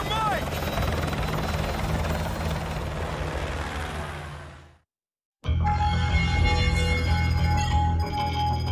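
A helicopter in Call of Duty Modern Warfare roars with a loud, continuous rotor thrum that fades into a moment of silence, then returns just as loud with game sounds layered on top.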